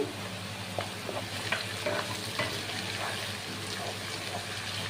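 Onion frying with garlic and ginger paste in a pan, a dense steady sizzle with repeated light spoon scrapes as it is stirred, close and continuous.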